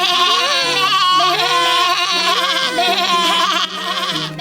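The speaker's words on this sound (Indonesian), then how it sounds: "Mendengar suara dari kambing kecil, serigala itu langsung menghampiri" Several bleats from cartoon young goats overlap in wavering, high cries, loud and close, with a musical backdrop underneath.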